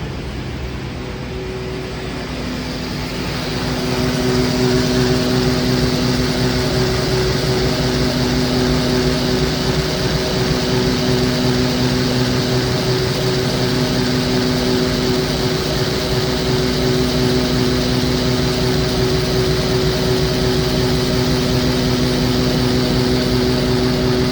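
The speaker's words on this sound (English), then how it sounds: "I can hear how the brushes interact with the conveyor in the machine" A DM1100C deburring machine runs with its brushes working against the conveyor, a steady loud mechanical hum with droning tones that swells after the first few seconds and holds unbroken.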